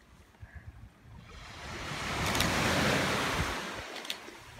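An ocean wave builds into a broad rushing surge and slowly recedes, with wind buffeting the microphone and no voices.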